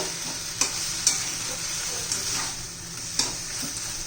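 A spoon stirs masala pasta in a hot pan, scraping and clacking against the metal in a few distinct knocks over a steady sizzle, close and fairly loud, with no talking.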